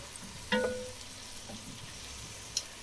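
Onions fry and soften in a pan on the stove. A soft, steady sizzle runs throughout, with a couple of brief clinks from stirring. No one speaks.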